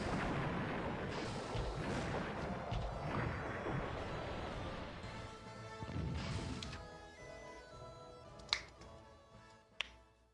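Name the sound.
80-centimeter naval guns firing, from a video game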